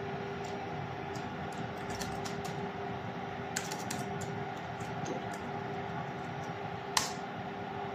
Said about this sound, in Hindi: सो इसका जो पासवर्ड है वो मैं एंटर करता हूँ इस पर।